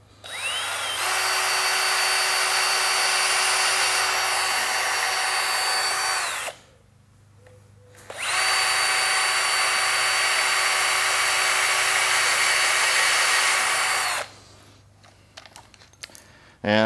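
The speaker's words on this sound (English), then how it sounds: "Shooting a couple of screws in through the side." A power drill drives screws through the side into a wooden door jamb of a DIY pre-hung frame for an antique door, two long loud whirring runs split by a short pause, close and steady, ending in a few clicks.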